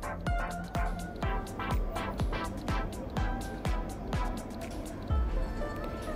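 Tofu simmers in sauce in a pan, giving a busy, steady bubbling and popping with quick wet plops throughout, close and fairly loud.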